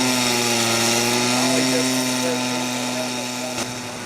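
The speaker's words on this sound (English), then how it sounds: "The mold has been removed and the excess iron is being cut away." Cutting torch or grinder removing excess iron from a thermit weld on railroad rails, a loud continuous steady roar with a sustained tonal hum throughout, fading slightly near the end.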